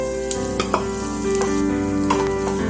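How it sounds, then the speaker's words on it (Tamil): Onions and tomatoes sauté in a pan for kadai paneer gravy with a steady close sizzle. Occasional clicks of stirring break through now and then, and no voices are heard. "இது தக்காளி சாஃப்ட் ஆகுற வரைக்கும் வதங்கட்டுங்க"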